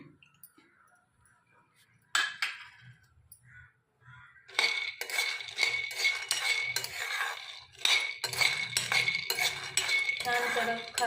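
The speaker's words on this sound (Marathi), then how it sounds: "तर आधी आपण सुरुवातीला शेंगा भाजून घेऊया." Peanuts dry-roasting in a pan for chutney: after a quiet start and a brief clink, dense rattling of nuts and utensil scraping against the pan, continuous and close with no talk.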